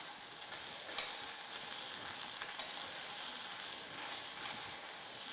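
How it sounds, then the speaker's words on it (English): Shallow frying in a pan while the food is stirred, a soft continuous sizzle with faint scraping ticks, fairly quiet and close, no voices. "Shallow fry. Keep on stirring."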